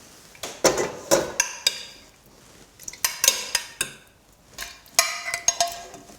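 Pumpkin pieces are scraped off a board into a pot of stock, a series of sharp knocks, scrapes and clatters in irregular bursts, close and distinct with quiet gaps between them.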